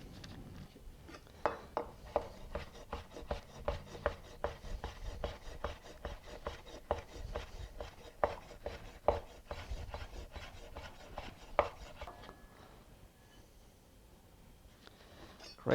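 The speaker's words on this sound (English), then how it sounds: "it's time now for us to cut the ham into a thin julienne." A knife cutting ham into a thin julienne on a board, with rapid close chopping strokes in an irregular rhythm that slows and fades near the end.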